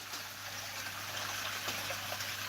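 Tap water trickling through a bed of charcoal and running back into a garden pond, a soft, steady splashing burble heard faintly and continuously with no voices.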